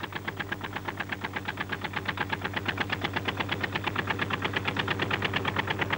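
Diesel engine of a shuttle boat leaving Okino Torishima island chugs steadily and loudly, its rapid rhythmic knocking pulses continuing without pause throughout.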